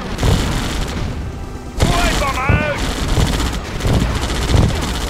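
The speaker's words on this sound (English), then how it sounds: "Fire at will! Open fire!" Bursts of unit gunfire and booming shots in the real-time strategy game Red Alert 2, loud and sustained for five seconds as machine-gun rattle mixes with heavier cannon blasts, while game voice lines play over the top.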